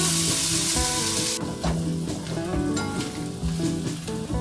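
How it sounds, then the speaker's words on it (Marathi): Chopped onion sizzles in a pan while browning to golden for a Konkani-style oyster curry. A loud hissing burst opens the clip, then settles into a softer, steady frying sound with faint tonal background sounds. "कांदा लाल होईपर्यंत आपण सोनेरी कलर येईपर्यंत आपल्याला हे भाजून घ्यायचं आहे कांदा"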